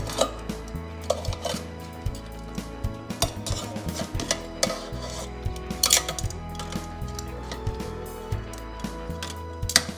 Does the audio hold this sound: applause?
no